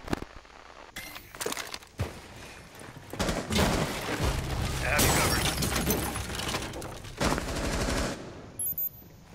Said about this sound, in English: Someone's shooting in first.